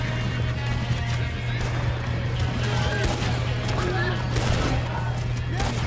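A horse neighs amid a Red Dead Redemption 2 battle against the army, with gunfire crackling around it and hooves clopping, mixed with background game noise and a low steady hum.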